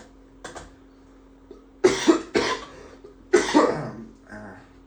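A sick person taking expectorant coughs in several harsh, chesty bursts, a faint cough first and then three louder clusters spaced a second or so apart, close to the microphone with a light steady hum beneath.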